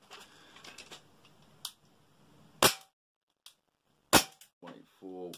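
Shots from a Tokyo Marui Ruger LCP compact airsoft gas pistol fired through a chronograph, two sharp loud cracks several seconds apart with a few faint clicks and handling noises around them.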